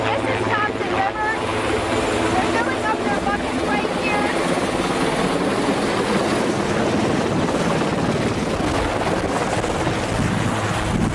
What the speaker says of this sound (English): three helicopters are attacking the fire